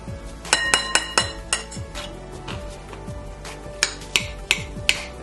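A utensil mixes whipped butter into hot baked yam in a bowl, producing a quick series of close, bright clinks and taps in an uneven rhythm, with no speech.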